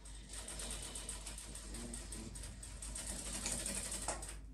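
A sewing machine stitches trousers near a zipper, running slowly in a steady, rapid mechanical clatter with a low motor hum underneath, close and continuous.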